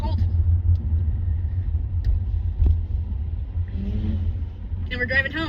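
Car engine rumbling steadily from inside the cabin while driving home, a constant low drone with road noise, and a voice talking briefly near the end.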